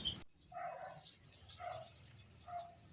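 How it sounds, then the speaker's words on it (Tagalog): Birds call outdoors in a rural countryside yard, three clear repeated calls at moderate distance over faint background ambience. "Ayan yung mga ibon na madami."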